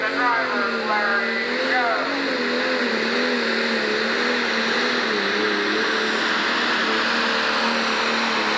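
Pro stock pulling tractor at a 10,000 lb class pull at the Ohio State Fair, its engine roaring loud and sustained with a wavering, rising-and-falling pitch throughout, a crowd and announcer faintly beneath.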